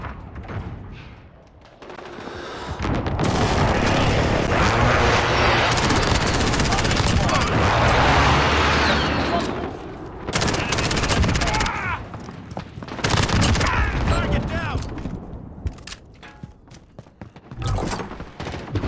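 Gunfire and an incoming airstrike in Call of Duty: dense, loud bursts of rifle and machine-gun fire with heavy thuds and blasts, rising and falling over about nineteen seconds while voices call out over the battle.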